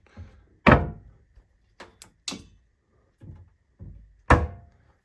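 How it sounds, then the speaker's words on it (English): A cabinet door on a Milo Baughman credenza for Thayer Coggin is opened and handled at an auction preview, giving a sharp wooden thunk followed by a few lighter clicks and knocks and another solid bump, close and distinct. "Let me open up the door."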